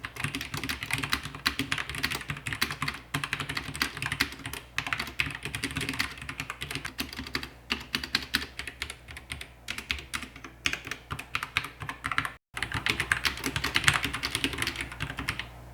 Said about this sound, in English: This is what it sounds like to type on the F68.